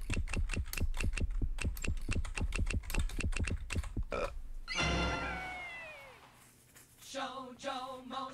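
Rapid keyboard typing while entering an answer in the You Don't Know Jack trivia computer game, a steady run of close clicks for about four seconds, then game sound effects and a voice follow.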